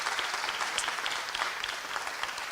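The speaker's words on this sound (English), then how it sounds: "Give a round of applause, my sister." An audience at an awards ceremony applauds, a steady dense wash of many hands clapping from start to finish. The applause is moderately loud and has no voices over it.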